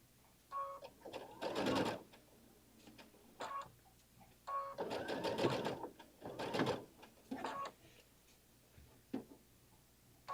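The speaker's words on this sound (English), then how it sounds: "Okay, so we're stitching it a 1/2 inch." A sewing machine stitches a dress seam in short uneven bursts of rapid ticking stitches with pauses between, fairly close and moderately quiet, with no speech.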